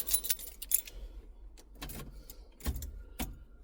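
Car keys jangle in several bursts inside a Ford Cortina P100 pickup, close and fairly quiet, with soft metallic rattles between louder shakes and no talking.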